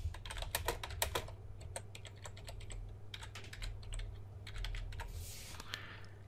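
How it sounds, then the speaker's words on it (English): Rapid clicking keystrokes on a computer keyboard while entering text into software, crisp and close, in irregular bursts with short pauses and no talking. "We'll just type it in."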